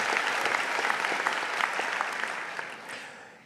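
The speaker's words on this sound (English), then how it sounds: "Round of applause." An audience at a medical school white coat ceremony claps warmly, a full, even burst of applause that gradually fades toward the end.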